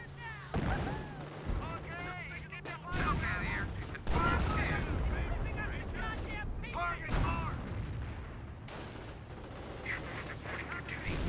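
Mortar and artillery fire in the WWII strategy game Company of Heroes, with repeated booming blasts and whistling shells, loud and dense, under a commentator's voice.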